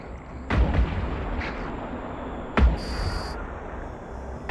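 Ship guns firing iron charge ammunition in the EVE Online space game: heavy booming artillery shots, a few seconds apart, loud and close, each with a short rumbling tail.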